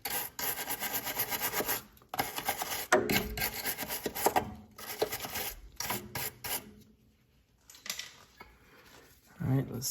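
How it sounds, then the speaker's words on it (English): A tool scrapes crud off a brake line nut on a car during a brake line job, making harsh rasping strokes in uneven bursts, close and fairly loud, with short pauses and a near-silent stretch before the scraping resumes. "I'm just gonna scrape it a little bit."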